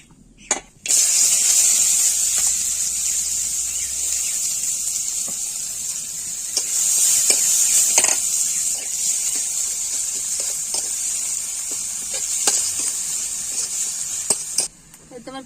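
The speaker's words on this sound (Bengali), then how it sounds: "তোমার পেঁয়াজ গুলো লাল লাল করে হয়ে গেছে," Onions frying in oil in a pan during home cooking give a steady, close sizzling hiss that runs almost the whole time, with a few faint clinks of utensils and no talk over it.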